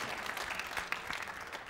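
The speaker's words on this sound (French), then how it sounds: "je veux qu'on applaudisse ces gens qui ont su" A studio audience at the French TV game show Le Bigdil claps steadily, a dense patter of applause filling the short moment without pause.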